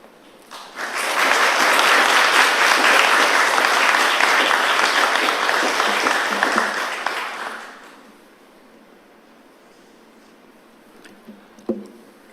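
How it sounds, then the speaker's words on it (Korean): A church congregation breaks into loud, sustained applause welcoming a pastor to the pulpit for a Sunday sermon, dense clapping for about seven seconds before fading to quiet. "나오실 때에 하나님 앞에 영광의 박수로 환영하겠습니다."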